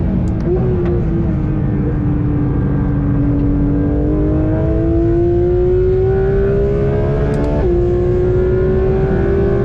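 Porsche GT3 RS engine pulls hard at speed on a race track, a loud, close, continuous drone whose pitch climbs steadily through a gear, briefly dips at a shift near the end, then rises again, with no talk.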